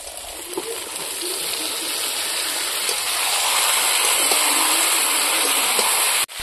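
Fried cauliflower, soybean chunks and chickpeas go into masala already frying in oil, raising a steady loud sizzle that builds gradually, with faint clinks and scrapes, up close and without voices.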